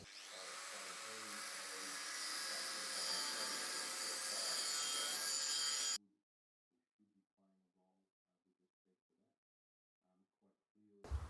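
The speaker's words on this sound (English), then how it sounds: "I think it's time for the angle grinder." An angle grinder cuts into a steel chassis gusset beside an oil cooler, giving a loud, continuous high-pitched grinding whine for about six seconds that stops abruptly, followed by near silence with faint scattered knocks and a brief burst at the end.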